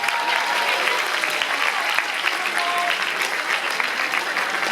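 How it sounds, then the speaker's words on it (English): A staff revue audience breaks into a full round of applause, dense continuous clapping held at an even, loud level throughout with faint crowd noise beneath and no speech. "give yourselves a big round of applause there"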